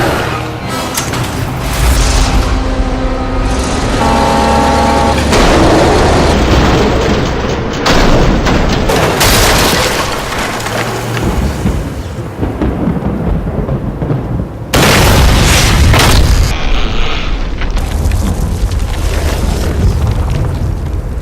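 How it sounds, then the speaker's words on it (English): Heavy booming explosions like fireworks in The Darkness II game, loud rolling blasts and crashes that swell and break off in bursts amid dense rumbling action noise. "It's exactly the kind of fireworks I was hoping for."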